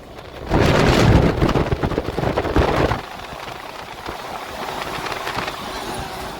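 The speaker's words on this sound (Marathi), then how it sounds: "आवाज कसा येतो टायरातून आवाज कसा येतो" Loud, rumbling roar of a fully loaded heavy truck's tyres rolling on the road, swelling sharply for a few seconds before settling into a steadier, quieter drone.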